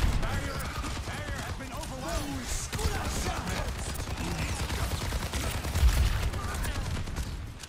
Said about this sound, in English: Stop shooting that man.